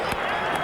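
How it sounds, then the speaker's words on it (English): A football crowd of Bulldog supporters roars and applauds a goal in a dense, sustained wash of cheering and clapping from a large stadium audience, with a commentator's voice audible on top. "Crowd love it, the mighty Bulldog Army."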